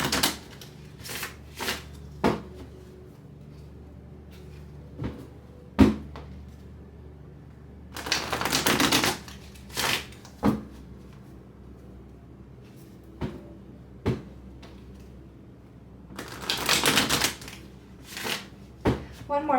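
Tarot cards being shuffled by hand in a quiet room, with two longer riffling bursts and many sharp single taps and snaps of cards between them, close and moderately loud.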